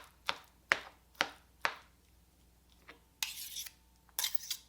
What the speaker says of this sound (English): I'm just going to give this a nice chop before I smash it up with my fork